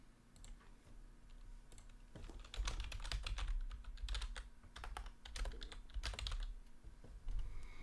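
A search being typed on a computer keyboard: a fast, quiet flurry of key clicks in uneven bursts over a low background rumble, with no speech.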